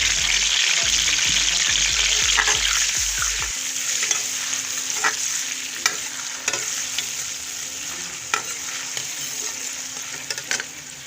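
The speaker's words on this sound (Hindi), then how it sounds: "अब ये मैं मसाले के लिए 2 बड़े चम्मच घी डाल दिया, लहसुन अदरक की पेस्ट डाल दिया, ये प्याज डाल दिया" Onions fry in ghee with garlic-ginger paste for a kofta aloo masala, giving a loud, continuous sizzle with scraping stirs throughout and a low rhythmic thumping at the start.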